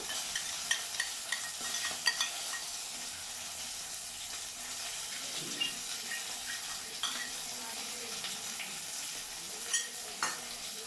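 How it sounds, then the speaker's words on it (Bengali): Spice paste being stirred with whisked sour yogurt in a pan for Bengali rui posto, with a steady soft sizzle and scraping stir sounds throughout, moderately quiet with a few light utensil taps. "মশলাটা ভালো করে মিক্স করে নেব।"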